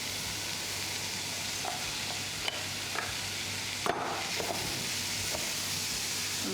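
Broccoli sizzles steadily in butter with ginger garlic paste in a pan, a constant frying hiss broken by a few soft scrapes and taps as it is stirred, with no talking.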